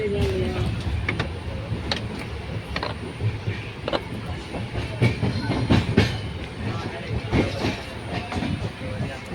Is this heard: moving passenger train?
yes